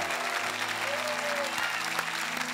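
Congregation applause at a church worship service, a dense steady wash of clapping under sustained organ or keyboard chords.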